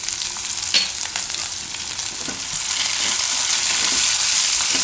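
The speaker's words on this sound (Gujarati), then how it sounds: "તેલમાં તો મરચાંય આપણે થોડીક વાર પકાવી લીધા" Green chillies fry in hot oil for a Gujarati carrot and chilli methiya sambharo, making a steady close sizzle with a few stirring clicks and no voices.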